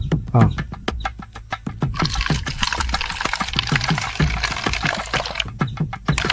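A peg of liquor is poured from a freshly opened bottle into a soda bottle, giving a run of sharp clicks and then a steady, close-up liquid rush that lasts several seconds, with faint background voices.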